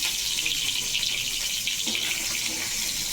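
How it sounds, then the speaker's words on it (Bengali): Fish frying in hot oil in a pan, a steady, dense sizzle and hiss that holds evenly throughout at a close, fairly loud level. "মাছটা ভাজা হয়ে এসছে প্রায়"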